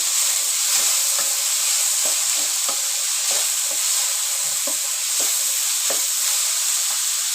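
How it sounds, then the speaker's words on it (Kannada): Chopped capsicum fries with browned onions in a pan under a loud, dense, continuous sizzle, with soft spatula strokes stirring through it at intervals. "ಕ್ಯಾಪ್ಸಿಕಮ್ಮು ಚೆನ್ನಾಗಿ ಸ್ವಲ್ಪ ಫ್ರೈ ಆಗಲಿ"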